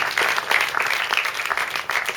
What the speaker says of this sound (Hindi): मैं चाहता हूँ अपने दर्शक गणों के लिए कि जोरदार तालियां दर्शक अपने लिए बजाएं।